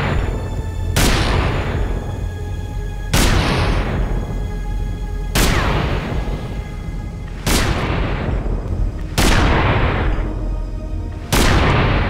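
Recreated gunfire from a drive-by shooting at a white late-model Cadillac, with five loud, booming shots spaced roughly two seconds apart, each trailing off in a long echoing decay, and no voices.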